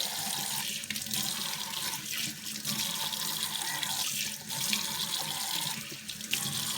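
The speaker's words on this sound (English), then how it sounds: "I'm going just to take my kitchen shower and I wet her head" Kitchen sink sprayer runs steadily, soaking the hair of a reborn doll with a continuous hiss of water, broken by brief dips as the stream shifts against the head.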